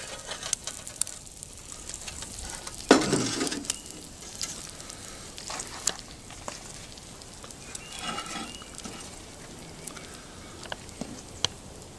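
Eggs fry over a small homemade tin can stove, a steady quiet sizzle broken by scattered ticks and pops, with one louder rustling burst partway through.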